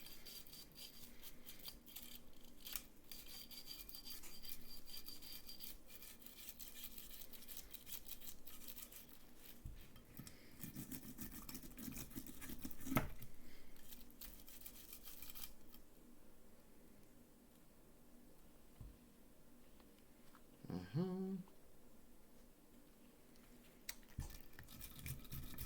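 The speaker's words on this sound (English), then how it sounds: "All the areas of the slide where these nooks and crannies, these hard to get areas, just go ahead and just scrub that through there." A brush scrubs along the slide of a Taurus G3 pistol, working into nooks and tight spots with soft, continuous bristle scratching, fairly quiet and close, with a few brief clicks of the slide partway through.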